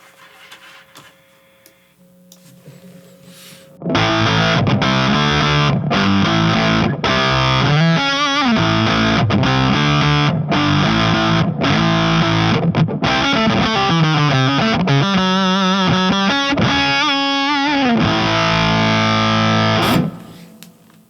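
Electric guitar through a Dirty Boy Afro-Fuzz pedal in the Two Notes Genome, set to a fatter tone: loud, thick, saturated fuzz riffs with sustained notes and short choppy stabs, kicking in after a quiet moment and stopping abruptly near the end.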